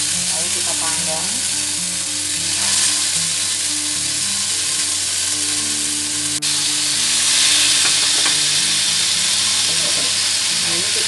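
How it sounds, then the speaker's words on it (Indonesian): Spiced chicken pieces grill in a hot pan with a steady, dense sizzle and hiss that carries throughout, swelling slightly at times, with faint background sounds beneath. "Setelah panas, kita ambil ayamnya, pisahkan dari bumbunya ya, lalu kita panggang."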